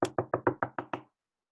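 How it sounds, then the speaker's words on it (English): Seven quick, sharp knocks on a door in a regular rhythm, close and clear, followed by silence; part of a traditional Cheshire soul play performance. "The letter in is going to knock on the door."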